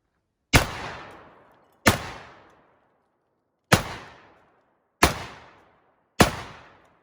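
Five loud, sharp 12 gauge shotgun blasts from a Dickinson/Ermox XXPA firing 3-inch shells, unevenly spaced about a second apart, each with a quick decaying outdoor echo and silence between.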